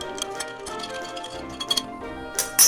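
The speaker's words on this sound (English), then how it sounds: "Give it another stir." A rum grog cocktail is stirred in a glass, giving a series of bright, close clinks and ticks of ice and spoon against the glass, with louder clinks near the end.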